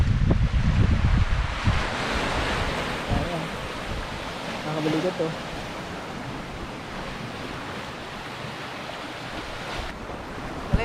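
Surf breaking far below a high rock cliff in the Bicol countryside, a steady wash of waves mixed with strong wind buffeting the microphone, with people talking excitedly over it.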